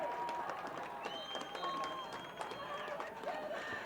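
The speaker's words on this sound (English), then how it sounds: "Oh, the crowd's making some noise here." Crowd noise from spectators at a high school football game, a steady roar of voices and scattered cheers filling the stands, with whistle-like tones and general commotion throughout.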